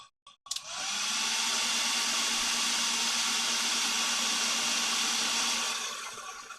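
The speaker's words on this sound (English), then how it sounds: "give it this with the hair dryer." After a couple of clicks, a hair dryer starts and blows with a loud, steady high-pitched whoosh and whine for several seconds before easing off.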